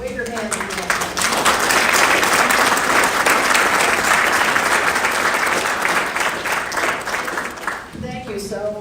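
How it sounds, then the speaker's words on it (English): An audience at an awards ceremony for animal bravery medals breaks into loud, sustained applause that swells and holds for several seconds before tapering off, with a voice briefly audible at the end. "I just really want to give them a round of applause, please."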